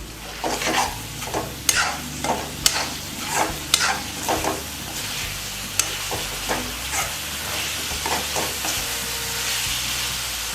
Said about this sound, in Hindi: तो मैं आधी टीस्पून इसमें अमचूर डाल देती हूँ और इसको थोड़ा हिला लेंगे हम।